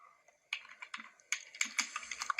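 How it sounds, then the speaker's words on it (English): Typing on a computer keyboard while entering code in the NetBeans Java editor: a quick, uneven run of light key clicks, close and fairly quiet, alone with no voice. "So I'm going to type in hello"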